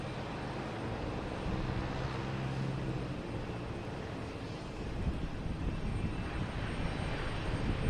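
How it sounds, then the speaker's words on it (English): A JetBlue Airbus A320 arriving from Orlando at Boston Logan Airport, a steady broadband aircraft roar that holds evenly throughout with a low engine rumble, moderately loud and continuous, no voices. "But we have JetBlue coming in from Orlando."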